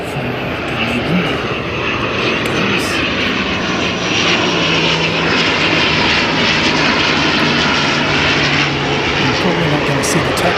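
An ATR turboprop airliner arriving from Dunedin gives off a loud, continuous propeller and engine drone close by, holding steady throughout, while people talk over the noise.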